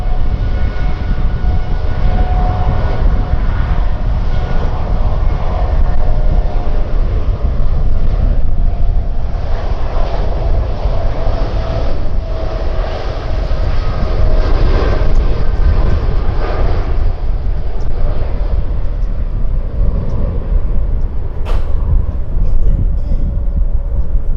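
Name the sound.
Boeing 787-9 Dreamliner taking off from Tan Son Nhat airport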